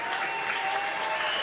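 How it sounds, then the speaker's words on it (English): A crowd cheers and applauds steadily at a women's senior world championship curling final, dense clapping with raised voices filling the arena, moderately loud and continuous. "crowd is cheering already"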